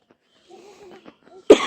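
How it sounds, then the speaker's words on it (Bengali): Someone with a cold lets out a single sharp, close cough at the very end, after a stretch of faint, quiet murmuring voices. "ঠান্ডাতে একটু কাশি লাগছে"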